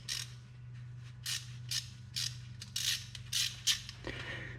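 Quiet, close ratcheting from a 10 mm wrench on a bolt at the wheel of a Ford ED Falcon, with about eight short bursts of clicking in an uneven rhythm over a low background hum.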